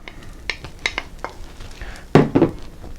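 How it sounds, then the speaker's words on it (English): A utensil stirs cooked vegetables into meat in a pan for a rice dish, giving light scraping and clinking with a faint sizzle and a louder scrape-and-clatter near the end. "So we'll go ahead and mix the vegetables and with the meat."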